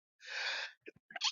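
One close, sharp human sneeze bursts out on its own, followed by a couple of quick, soft breaths.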